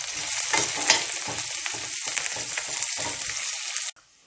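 Cashews and curry leaves roast in a pan with a loud, continuous crackling sizzle and stirring scrapes that cut off abruptly near the end.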